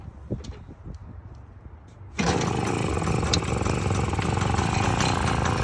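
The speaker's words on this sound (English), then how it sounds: "It's idling very low." A small vintage Tomos moped engine kicks on with a sudden jump in level, then idles very low at a steady low rumble, close and continuous without talk.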